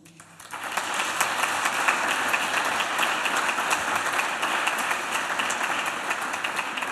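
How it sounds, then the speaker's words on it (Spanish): A crowd at a World Breast Cancer Day event breaks into applause that swells within the first second and then holds full and sustained, slowly easing toward the end. "pido un aplauso de todos ustedes"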